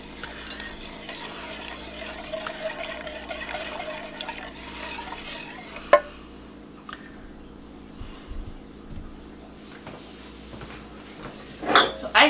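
Homemade vanilla extract stirred into homemade chocolate syrup in a pot, a soft steady swirling scrape under light background hum, followed by a few utensil clinks and taps.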